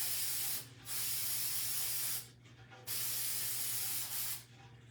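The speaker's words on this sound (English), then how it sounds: "All I'm doing is spraying." An aerosol spray can coats a primitive vintage Santa tin indoors in about four close, loud hissing bursts separated by short pauses, with no voices.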